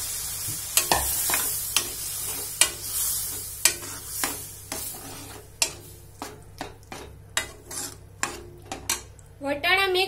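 A spoon scrapes and clacks against a pan as boiled peas are stirred into a masala paste for ragda, sharp irregular knocks over a soft background sizzle, ending with a brief squeaky scrape.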